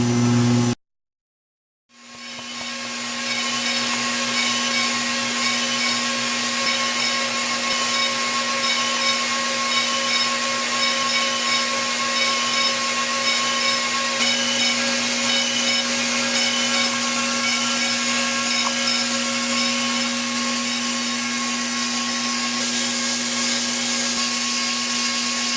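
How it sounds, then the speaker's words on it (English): A Lawson Hemphill FAK knitting machine runs steadily with a continuous mechanical hum and whir, loud and close, starting after a brief silent gap and holding an even tone throughout without any talking. "At any speed, the machine maintains constant amount of yarn and constant tension throughout the entire test."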